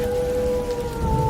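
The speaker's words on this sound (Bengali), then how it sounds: "বাইরে বৃষ্টির শব্দ" Animated sound effect of rain falling outside on a stormy night, a constant wash of downpour with faint sustained tonal whistles running through it, steady and unbroken over a short stretch.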